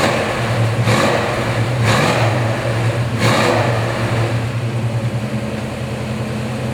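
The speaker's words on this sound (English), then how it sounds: "how about I start it for you?" A 1966 Ford Mustang GT convertible with trumpet exhaust tips runs close by, a steady engine rumble broken by three sharp rev bursts about a second apart, then settling back to a throbbing idle.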